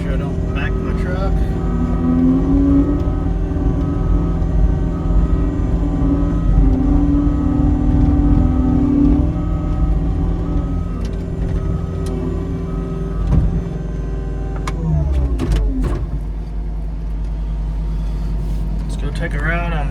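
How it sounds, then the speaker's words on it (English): A pickup truck engine runs steadily up close on a new-build site, its low drone holding with a few revs and shifts in pitch, while a voice speaks over it. "Make sure I don't back my truck."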